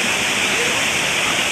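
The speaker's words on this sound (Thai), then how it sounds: "น้ำทะลักลงไป" Floodwater gushes in a steady, loud, unbroken roar during a storm in Phuket, a continuous rushing torrent with no pauses.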